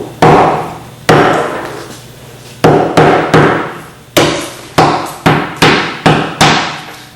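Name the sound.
hammer breaking dry ice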